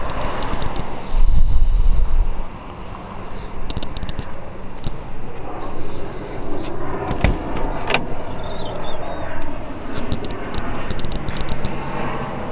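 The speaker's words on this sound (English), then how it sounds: "Got a few jets flying over." Jet aircraft flying over, a broad distant roar of jet engines rumbling steadily overhead for several seconds at moderate level, with no talking.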